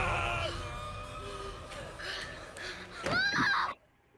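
A Halloween horror clip plays eerie tones and scattered noises, then a sharp loud scream near the end before cutting to near silence.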